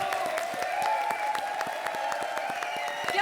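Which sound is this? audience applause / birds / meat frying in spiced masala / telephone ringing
audience applause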